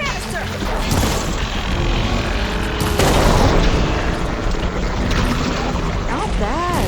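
A canister explosion in Horizon Forbidden West: a heavy, sustained boom and rumbling blast filling the scene, with crashing debris and a voice shouting over it.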